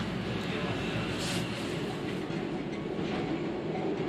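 A train runs along its rails with a continuous rumbling, clattering roar at moderate level, holding steady throughout with no clear talk over it.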